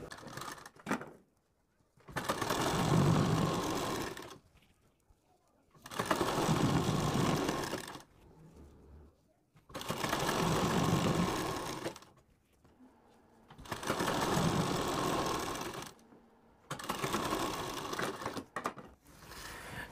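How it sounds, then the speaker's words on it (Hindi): A sewing machine stitches along the folded edge of a fabric strip for puff sleeves, running in five close bursts of a few seconds each with short quiet pauses between them. "अब आपको अपनी इस पट्टी को यहाँ पर ऐसे फोल्ड करना है और इसके किनारे पर यहाँ पर आपको एक सिलाई लगानी है"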